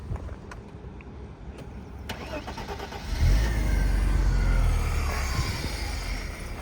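A 2.6 car engine on a vehicle with 14k miles cranks, catches and settles into a louder steady idle, heard close, preceded by faint clicks and rattling.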